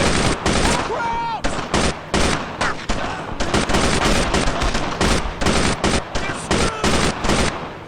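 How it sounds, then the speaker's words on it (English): Machine gun fire in the World War II shooter Brothers In Arms during a Utah Beach assault: loud, dense bursts of automatic gunfire with brief gaps, mixed with other battlefield shots and a shouted voice. "Man, the MG suppresses them really badly."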